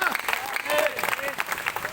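Congregation applauding during a church worship service, a dense, steady patter of clapping that runs throughout, mixed with voices talking over it.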